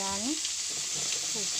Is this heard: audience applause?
no